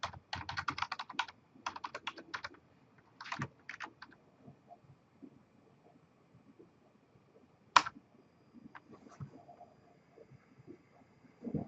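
Password being typed on a computer keyboard: bursts of quick, close key clicks in short runs, then sparse isolated taps and one sharper click, with a faint background hum.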